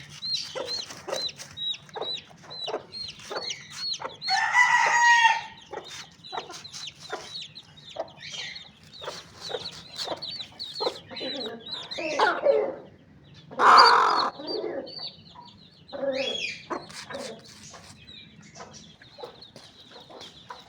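Aseel hens clucking and chicks peeping in a steady, busy stream, with a few louder squawking bursts standing out, close by and without talking.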